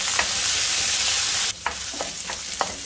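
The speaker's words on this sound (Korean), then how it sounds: "올리브오일이에요 마늘하고 생강으로 먼저 향을 내주세요" Garlic and ginger sizzle in olive oil in a pan, a loud steady frying hiss that drops partway through, followed by a few sharp stirring scrapes.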